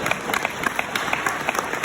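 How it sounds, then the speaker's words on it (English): Audience at a fraternity convention's president's address giving a short burst of scattered applause, brief and moderately loud. "you can applaud for that"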